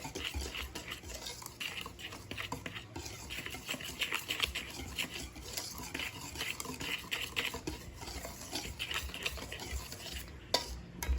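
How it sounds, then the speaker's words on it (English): Steady scraping and rustling of a wire whisk stirring through dry flour in a bowl, continuous and close, with no speech. "Now with a wire whisk, we're gonna aerate the flour"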